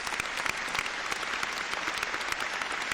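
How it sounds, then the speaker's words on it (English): A crowd breaks into brisk, continuous applause with sharp individual claps standing out, close and loud with no talking over it. "Round of applause to Space Ghost"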